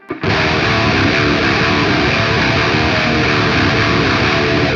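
A loud, sustained electric guitar chord played through a boost pedal on a metal amp simulator rings out with a bright, boosted and slightly gritty tone, held steadily throughout.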